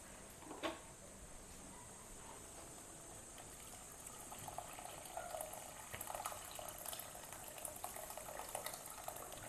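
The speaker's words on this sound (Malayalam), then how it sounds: "തിളച്ച വെള്ളം കൂടെ ഒഴിച്ച് കൊടുക്കാം" Boiling water poured into a pot of Kerala-style motha fish curry, a soft steady trickle and stream of liquid that runs continuously, faint and alone with no talk.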